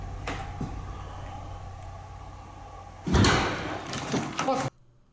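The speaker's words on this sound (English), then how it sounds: "all you can do is slam doors" A door slams loudly in a ghost-hunting video game where a demon nun haunts a swimming pool, one heavy thud followed by rattling, banging bursts, with tense game ambience beneath.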